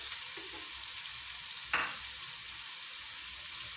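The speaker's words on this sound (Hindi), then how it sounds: "प्याज हम लोग इसके अंदर डालें, इनको हम लोगों ने लाइट ब्राउन करना है" Onions frying in hot oil in a pan while being cooked to light brown, a steady soft sizzle with a brief stirring scrape partway through, close and alone.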